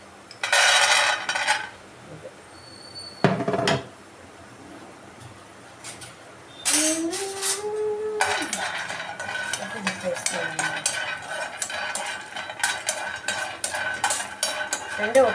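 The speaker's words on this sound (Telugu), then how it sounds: "ఇటు పక్కకు మనం పల్లీలు వేపేసుకొని" Peanuts roasting in a pan for chutney, with a utensil scraping and stirring against the metal in irregular bursts, some louder clanks and faint sizzling, alongside a background hum.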